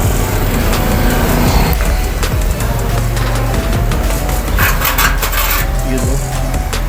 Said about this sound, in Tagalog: Gamitin natin ang correct tools, ang 11mm socket wrench